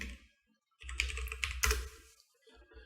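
Someone types a short command on a computer keyboard, a quick burst of close, crisp key clicks after a brief pause, ending with a couple of isolated taps.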